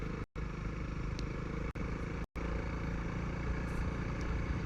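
Honda CRF300L dual sport motorcycle riding on a mountain trail, a steady engine drone with wind rumble, fairly close and continuous apart from a few brief dropouts.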